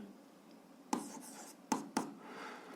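Pen writing on paper while working an algebra exercise, a few brief scratchy strokes and taps, close and quiet, with silence between.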